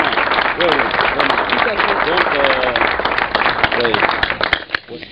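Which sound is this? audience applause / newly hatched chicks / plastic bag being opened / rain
audience applause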